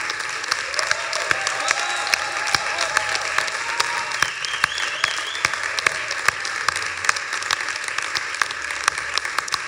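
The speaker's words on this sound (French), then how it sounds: "voici tous les lauréats de notre prix de l'Ailleurs 2019, on peut les applaudir." An audience applauds prize winners at an awards ceremony during a games festival, with steady, dense clapping that holds at an even level throughout and carries no talk over it.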